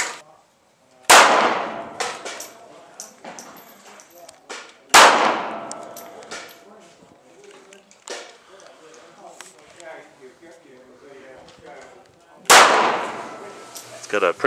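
A Grendel P10 pistol in .380 ACP fires three sharp, loud shots spaced several seconds apart outdoors, with people talking quietly between them.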